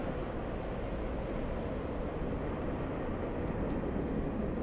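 Delta Airlines 737-900 taking off at LAX, a steady broad low roar of jet engines heard from a distance, continuous and even in loudness with no voices.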